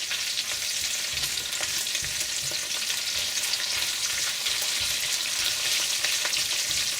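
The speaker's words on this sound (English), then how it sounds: "Now we're going to put our bean chili paste in here. I'm going to cook that for just a little bit" Bean chili paste frying in hot oil for a Chinese hotpot, giving a loud, continuous crackling sizzle with faint stirring movement underneath and no speech.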